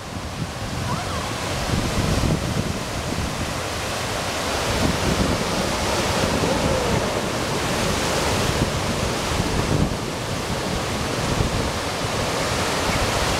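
Ocean surf on a Hawaii shore with big waves, a loud continuous wash and roar of breaking water with swelling surges, partly buffeted by wind on the microphone.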